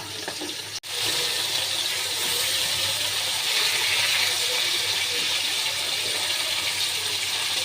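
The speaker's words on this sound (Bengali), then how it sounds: "তেলটা গরম হয়ে গেছে, আমি তাই মাছটা দিয়ে দিয়েছি।" Bhola fish frying in hot oil, giving a steady, loud, broadband sizzle that hisses on without a break after a brief sharp click near the start.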